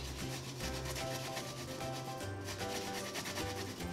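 Fresh ginger being grated onto a cutting board while making homemade dog treats: a steady, close rasping scrape that runs continuously without pause.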